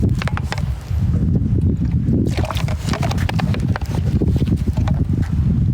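Strong wind on Pulau Upeh, an island off Melaka, buffets the microphone in a loud, continuous roar with gusty thumps and rustling.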